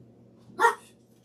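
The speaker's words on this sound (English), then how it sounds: "No need for barking." A dog gives a single short, sharp bark at close range during a home Christmas gingerbread baking session, the rest quiet apart from a low room hum.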